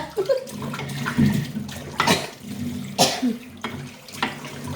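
Several harsh coughs spaced a second or so apart, close and loud, with throat sounds between them.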